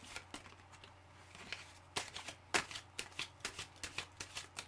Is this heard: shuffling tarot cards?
yes